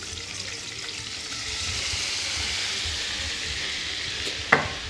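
Food sizzles and fries steadily in hot oil and butter with crumbled white cheese, the pan hiss filling the space close up, with a brief clink of stirring near the end.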